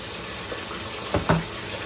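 Tilapia frying in a pan for buttered tilapia, a steady sizzle under a brief louder crackle and burst of spattering toward the middle.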